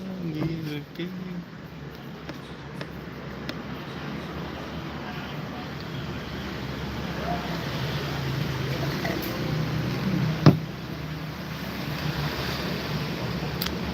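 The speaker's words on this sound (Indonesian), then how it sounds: "Angin." Steady wind noise blusters by the sea, a continuous broadband rush with surf-like wash throughout and one brief knock near the end; voices are faintly present.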